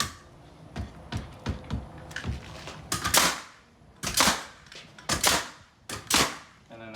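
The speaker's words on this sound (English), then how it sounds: "So you shoot that sucker in there." A pneumatic nail gun driving nails into wood framing during a garage conversion, a series of sharp close bangs with clattering handling noise between them and no speech.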